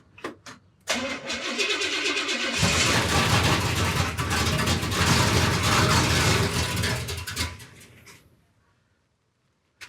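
Pontiac T-37 engine cranking briefly, then catching and running roughly at a loud, close, uneven idle for several seconds before shutting off into silence.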